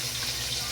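Water runs and splashes steadily into a pan of golden-browned fried garlic, a short, continuous wash of sound close by with no talking.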